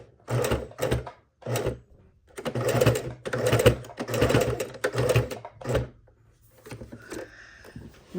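A sewing machine stitches binding onto a quilt in short start-stop bursts of close, loud mechanical whirring with brief pauses between runs, as at a corner pivot.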